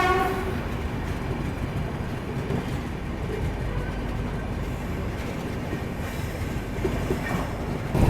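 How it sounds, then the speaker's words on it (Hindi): A train rolls slowly through Sirhind Junction, giving a steady close rumble of wheels and carriages with faint squeals and rattles throughout. "बहुत ही स्लो रफ्तार में सरहिंद जंक्शन को स्किप कर रहे हैं हम"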